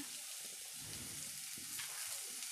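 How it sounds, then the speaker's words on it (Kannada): Three large onions lightly frying in a little oil in a pan, a soft, even sizzle with faint stirring scrapes, quiet and close, no voices. "ಮೂರು ಈರುಳ್ಳಿ ದೊಡ್ಡ ಸೈಜಷ್ಟು ಇದನ್ನು ಲೈಟಾಗಿ ಫ್ರೈ ಮಾಡಿಕೊಳ್ಳುವ"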